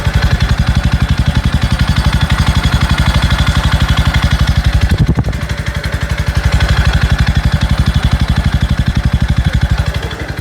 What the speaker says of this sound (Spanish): Primero, el escape en ralentí.